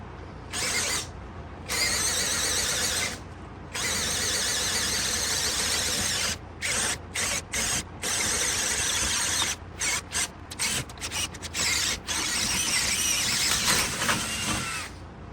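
A HyperTough brushless drill from Walmart bores with a 1-inch self-feeding paddle bit, its loud, strained whine running in long stretches that break into stuttering stops and restarts.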